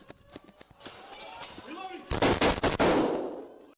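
Sharp bursts of gunfire, a few scattered shots followed by a loud rapid cluster of cracks, with voices underneath.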